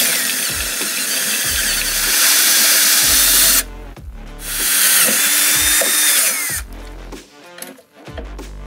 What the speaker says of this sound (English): I can just drill that nut cert out and put a larger one in there and have a larger bolt